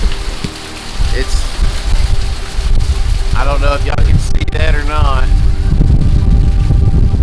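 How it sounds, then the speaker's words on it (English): Hurricane Laura, a Category 4 storm, drives heavy wind gusts and steady rain in a loud, continuous roar and wash, with a strong gust building; someone speaks over it. "That was probably a good 40 mile an hour gust right there."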